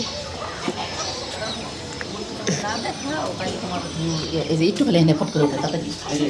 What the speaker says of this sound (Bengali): এই যে দেখেন অনেকগুলো মুরগি পালে